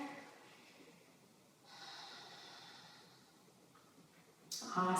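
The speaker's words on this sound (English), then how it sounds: "Couple of breaths here." A person standing in yoga mountain pose takes slow, audible breaths: soft, airy inhales and exhales close to the mic, ending in a sharper, louder exhale.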